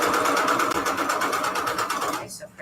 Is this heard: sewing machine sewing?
yes